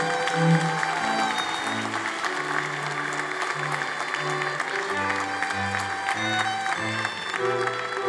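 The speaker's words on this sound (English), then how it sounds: "Big hand of applause to our graduating class." A graduating class at a university commencement ceremony receives steady, dense applause from a large crowd, with music playing alongside it throughout.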